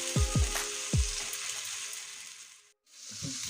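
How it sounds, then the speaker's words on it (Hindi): Ginger garlic paste frying in an oil-filled pan while cooking bhindi do pyaza, a steady close sizzle with a few soft low thumps of stirring near the start and a brief drop to near silence before the frying resumes. "मैं इन पेस्टों को अच्छी तरह से थोड़ी सी फ्राई कर ले रही हूँ।"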